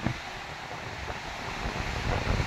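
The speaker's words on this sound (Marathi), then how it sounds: "लाटांचं जोरदार असं तांडव। पाऊस चालू झाल्यामुळे मान्सून विंड अगदी जोरदारपणे वाहत आहे।" At Ratnadurg fort in Ratnagiri, sea waves crash and a strong monsoon wind blows, making a continuous roaring rush with heavy wind buffeting on the microphone that grows louder toward the end.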